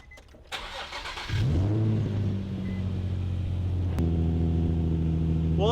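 A Nissan 350Z with an aftermarket exhaust cranks and fires up, the starter giving way to a deep, rumbling cold high idle that settles in, with a sharp click partway through, recorded close by.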